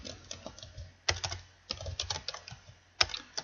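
Someone types on a computer keyboard close by in irregular bursts of quick clicking key taps, separated by brief pauses and ending with one sharper keystroke.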